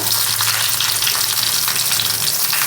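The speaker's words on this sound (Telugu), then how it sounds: "నెయ్యి వేసుకుంటున్నాను. బిర్యానీ ఆకు, చెక్క, యాలక్కాయలు, లవంగాలు వేసుకున్నాను." Whole spices and green chilies fry in hot ghee for a vegetable biryani, giving a steady, loud, close sizzle with a constant crackling hiss and no talking.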